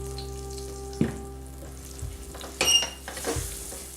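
Garam masala, chili peppers and cloves stirred and frying in a pan give a soft sizzle, with a few scrapes and knocks of the utensil against the pan, close and moderately loud, and no talk.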